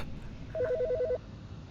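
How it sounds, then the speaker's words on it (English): In the game Autopsy Simulator, a telephone rings with a rapid warbling trill, one short burst of repeated electronic pulses lasting about half a second over quiet room tone. "The fucking phone."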